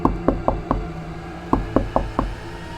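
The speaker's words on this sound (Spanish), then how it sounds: "Así tocaba la puerta de la habitación del niño." Knocking on a child's bedroom door: two quick sets of four sharp knuckle raps, evenly paced and close by, with a short pause between the groups and no voices.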